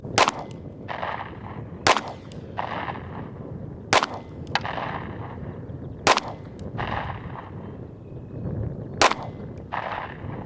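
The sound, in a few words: Ruger Max 9 pistol firing Federal HST rounds at target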